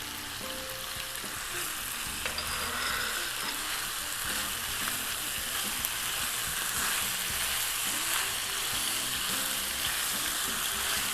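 Shrimp sizzling in a hot pan with peppers for a Cajun jambalaya pasta, a steady loud frying hiss with occasional light stirring scrapes, close and continuous without talking.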